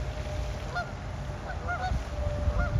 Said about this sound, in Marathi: त्या पक्ष्यांचा ओरडण्याचा आवाजही तुम्हाला येत असेल